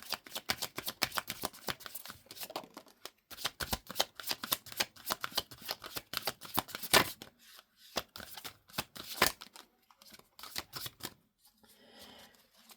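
Tarot cards are shuffled in dense bursts of quick riffling and slapping, close and crisp, with short pauses between rounds and a faint rustle at the end.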